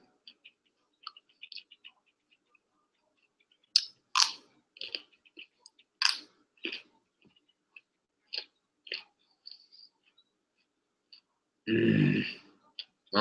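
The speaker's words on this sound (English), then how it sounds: "I'm chewing." Close-up mouth sounds from someone eating during a live eating challenge: scattered wet clicks, crunches and smacks in irregular bursts over a quiet background, with a longer louder burst near the end.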